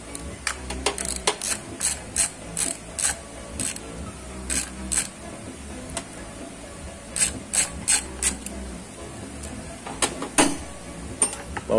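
Ratchet wrench clicking in short bursts while loosening a 10 mm bolt on the charging regulator of a Honda Cargo 125 motorcycle, close and fairly quiet, with repeated rhythmic pawl ticks and brief pauses.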